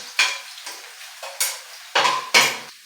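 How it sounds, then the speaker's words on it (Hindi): Garlic, fifty grams, dropped into hot oil while cooking chicken Manchurian, gives several short sizzling bursts with stirring scrapes against the pan, each hiss rising sharply then tapering, close and clear with no talking. "50 ग्राम लहसुन जो है हम इसमें डाल रहे हैं"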